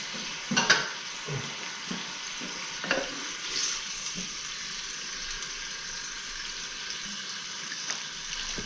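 A wooden spoon stirs chuck beef in a pan. Scattered scrapes and knocks sound over a soft, steady sizzle, with no talking.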